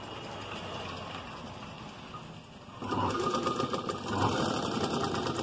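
A sewing machine stitching cloth for a face mask whirs steadily in a run of mechanical stitching, growing louder and busier partway through, with no voices.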